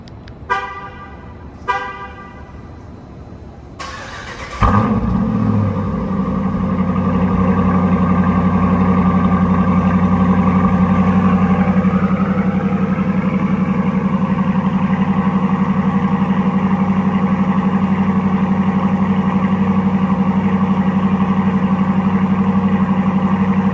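Dodge Durango R/T with a Borla cat-back exhaust cold-starting: two short horn toots, then the engine cranks and catches with a loud bark and settles into a steady, deep, rumbling high idle that runs on alone for the rest of the clip.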